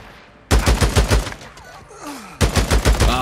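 Automatic AK rifle fire in the Days Gone video game: a loud, rapid burst of roughly seven shots, a short pause with a tail of echo and a falling tone, then a second quick burst.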